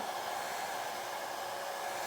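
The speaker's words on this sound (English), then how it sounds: "put our hair dryer on low" A hair dryer on its low setting blows with a steady, even whir, close by and constant throughout, with no voices.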